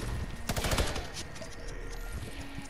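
Gunshots in the video game Fortnite, a quick flurry of sharp shots clustered early, then a quieter stretch with faint scattered sounds.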